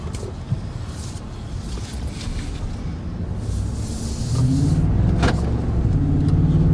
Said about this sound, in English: you never get sick of that V8 sound